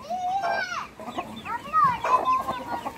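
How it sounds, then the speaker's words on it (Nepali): Chickens cluck and squawk loudly and close by near their coop in a family yard, with repeated uneven calls and a voice talking faintly underneath. "कुखुरा त हाल्नै पर्यो खोरमा"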